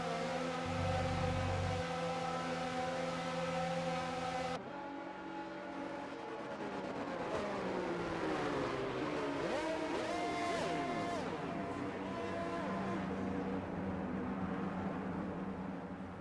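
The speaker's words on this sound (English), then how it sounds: "drivers ready to take the start of the race as the cars take their positions on the grid" Formula One race cars in the F1 22 game sit on the starting grid, their engines humming and droning with steady whining tones that shift in pitch, continuous and fairly close with no talking.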